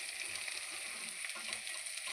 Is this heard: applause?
no